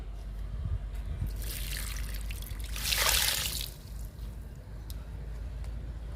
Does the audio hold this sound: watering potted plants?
yes